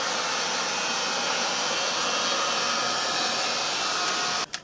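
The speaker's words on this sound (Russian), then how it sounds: "После этого с помощью фена мы хорошо просушим поверхности," A hair dryer blows steadily and loudly while drying the drum surfaces of a disassembled Indesit washing machine, a constant whooshing roar that cuts off abruptly near the end.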